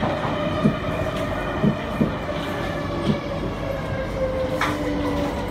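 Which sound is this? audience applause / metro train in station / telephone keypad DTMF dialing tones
metro train in station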